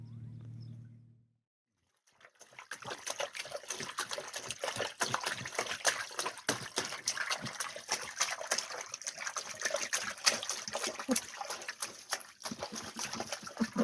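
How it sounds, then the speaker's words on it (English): Wind-driven waves lap and splash against a sailboat hull in quick, irregular slaps, close and continuous after a brief hum and a moment of silence. "A lot of wind waves come through here."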